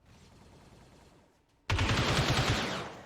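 Blaster gunfire in a Star Wars mod of XCOM 2: after a quiet stretch, a sudden loud burst of rapid repeated shots erupts and rattles on for over a second, alone without talk.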